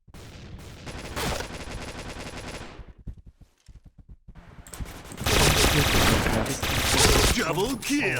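Shotgun blasts and rapid gunfire ring out in a first-person shooter game, loud bursts that cut off for a quiet gap before a heavier volley of shots resumes.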